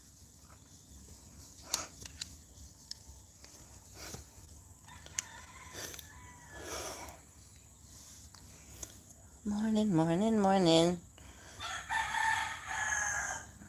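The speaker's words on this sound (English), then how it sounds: "A rooster crowing outside." A rooster crows outdoors on a Jamaican country morning, one drawn-out call from a moderate distance that rises clearly over quiet household sounds, with someone talking before and after it.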